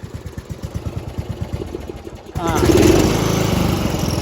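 A 1995 Craftsman LT4000 lawn tractor engine chugs at idle with a regular pulsing beat, then at about halfway jumps to a louder, steadier roar as the throttle opens.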